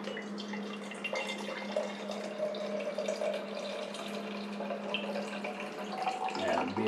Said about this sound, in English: You just start pouring that stuff off through that sock right there.